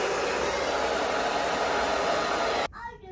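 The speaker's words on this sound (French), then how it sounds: "dans chaque sèche-cheveux, vous avez le côté froid." A handheld hair dryer blows steadily on its cold setting during an at-home salon blowout, a loud, even rush of air running continuously before cutting off abruptly near the end, leaving quiet room sound.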